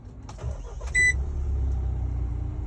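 A Mahindra Thar 4x4 sits with its engine running in the rain, a low steady rumble under a short electronic beep near the start.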